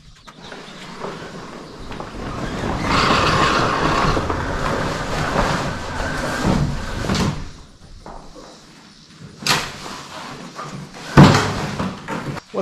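Heavy canvas tarp shop door rolling on a 4-inch downspout pipe, a sustained rumbling roll with rustling, ending in a couple of sharp knocks near the mic.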